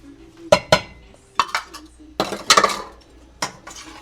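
A spoon stirs pickle brine with sugar in a pot, giving a handful of sharp metallic clinks and scrapes in irregular bursts, close and clear with no talk.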